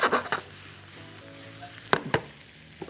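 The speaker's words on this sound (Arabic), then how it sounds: "هاخد الفراخ دي احطها على البصل بعد ما يدبل شويه" Raw chicken pieces being added onto softened onions in a hot pan, giving a soft, steady sizzle in a quiet kitchen, with a few sharp clatters of a utensil against the pan.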